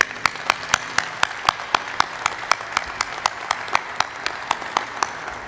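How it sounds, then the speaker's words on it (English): Audience applause for the shipbuilders at the keel authentication ceremony of the frigate USS Constellation (FFG 62), with crisp, evenly spaced claps standing out close by over a steady wash of clapping from the crowd. "Please join me in a round of another applause for this shipbuilder and the many others who could not join us today."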